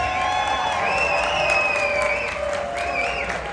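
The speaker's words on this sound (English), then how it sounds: "I want you please to give Bella DeBall a round of applause" Steady applause from a crowd with scattered cheers and whoops, filling the space evenly from start to finish.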